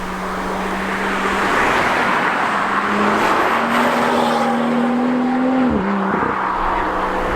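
A BMW M2 with the N55 engine and M Performance exhaust drives along, its engine note rising steadily in pitch under acceleration before a quick drop and shift near the end, loud and continuous from inside the car.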